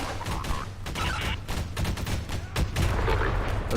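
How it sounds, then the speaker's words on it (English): A grenade blast amid ongoing gunfire in the Lambda Wars strategy game, with dense crackling shots and booming impacts filling the scene continuously without talk. "That's a grenade."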